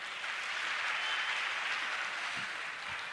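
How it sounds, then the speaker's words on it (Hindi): Continuous applause from a crowd, a dense even patter of clapping that holds steady throughout. "आप लोग बहुत जोरदार ढंग से तालियां बजाते रहिएगा"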